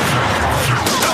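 Gunshots in the Kamen Rider Zero-One show: a dense, loud burst of rapid gunfire and booming impacts packed into about a second, with no pause.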